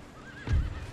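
Cavalry horse in Empire: Total War gives a short, fairly close whinny over a soft background bed during a siege of Madrid.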